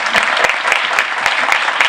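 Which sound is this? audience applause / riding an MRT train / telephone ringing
audience applause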